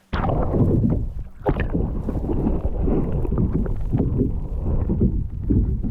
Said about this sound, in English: The wind is starting to go nuts, so it's actually getting a little bit dangerous.